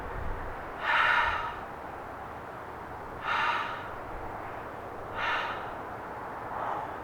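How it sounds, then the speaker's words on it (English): Four forceful breathy exhales are pushed through hands cupped over the mouth, each a muffled whoosh about two seconds apart and fading slightly in strength, close up against a quiet steady background. "Cup the hands over the mouth. Take 3 audible exhales."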